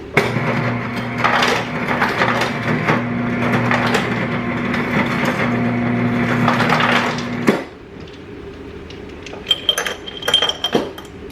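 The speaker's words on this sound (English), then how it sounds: "So I'm gonna put some ice in there." Ice cubes dropped and shaken into a glass over espresso and foam for a homemade brown sugar oat milk drink: bright clinks and rattling crunches up close, then a few sparse knocks and clinks as the pour settles.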